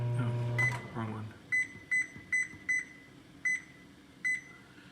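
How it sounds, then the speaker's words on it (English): A kitchen timer is set for minestrone soup, with a string of six or seven short, evenly spaced electronic beeps ringing out after brief talking at the start. "And then I'm going to set the timer, and this is kind of important, to 10 minutes"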